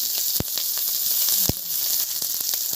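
Bay leaf, dried chili, panch phoron and green chili hit hot oil with a steady close sizzle and hiss, punctuated by sharp spitting pops.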